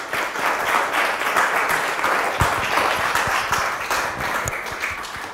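An audience claps at the end of a lecture on the moral economy of elections, a dense, steady wash of applause that holds at an even level throughout.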